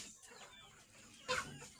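Faint, scattered clucking of chickens perched in a farm shed at night, with one sharper squawk near the end over a quiet background.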